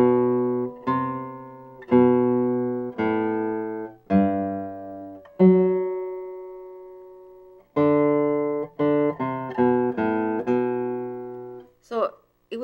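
Bach's Minuet on a single guitar with bass and melody played together: a sequence of clear, evenly spaced plucked notes and chords, each decaying, with a short pause midway and a soft vocal sound at the end.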